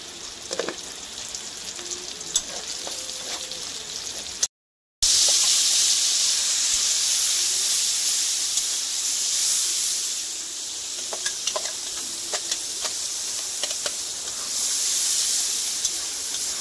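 Onion fries in hot oil for a fish curry, a loud, steady close hiss and sizzle with occasional spatters and stirring clicks, a short dropout near the middle, no voices.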